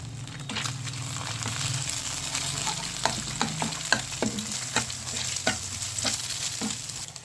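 Vegetables and egg frying in a pan for tomato noodles, a soft steady sizzle broken by repeated sharp scraping and tapping strokes of a spatula, close and without voices.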